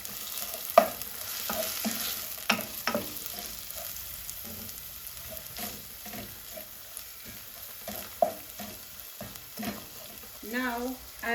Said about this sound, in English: Add your onions in and give it a stir.